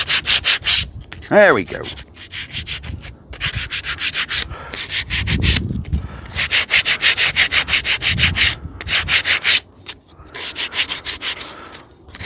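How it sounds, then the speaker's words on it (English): A small engine part is rubbed by hand with sandpaper in brisk back-and-forth strokes, a rhythmic scratchy rasp that pauses now and then, close up, with a brief spoken remark. "we'll just give this a little sand up"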